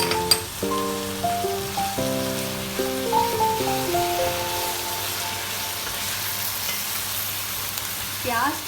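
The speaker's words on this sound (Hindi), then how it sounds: "और इसको हिलाते रहेंगे ताकि जो है कीमे की भुक्कियाँ ना बने" Chicken keema with onion, ginger, garlic and green chillies sizzles and frys in a pan while being stirred, with steady crackling, scraping stir sounds and some background musical tones, no talking.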